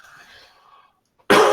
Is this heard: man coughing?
yes